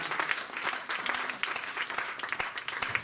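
A church congregation applauding during a sermon, continuous dense clapping from many hands filling the room for a few seconds.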